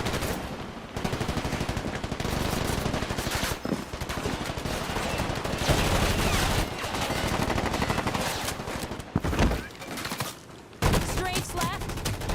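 Rapid automatic gunfire from a power weapon in the shooter game Combat Champions, dense continuous bursts of shots dominating throughout, loud and close with brief gaps near the end.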